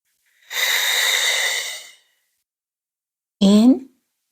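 Two deep breaths during a qigong breathing exercise: a long, airy breath of about a second and a half, a pause, then a shorter voiced exhale, close and clear with no talk.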